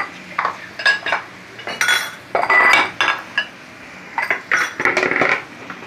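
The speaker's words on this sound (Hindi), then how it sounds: "2-3 मिनट के लिए अच्छी तरह इसको मिक्स कर लें।" Spoon stirring and mixing chickpea chaat in a metal bowl, a series of close, bright scrapes and clinks in uneven bursts with brief pauses.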